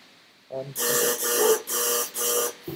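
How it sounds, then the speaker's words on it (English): Electronic alarm tone from the MouseHunt game, sounding as four loud, evenly spaced beeping bursts after a short lower tone, with a brief note at the end. "That's the alarm for it."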